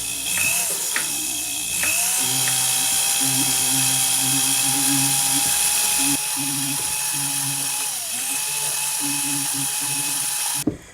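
A high-pitched rotary tool fitted with a silicone wheel whines steadily against a metal jewelry setting, the tone dipping briefly under load as the piece is cleaned and scratches are removed, running close and continuous for most of eleven seconds.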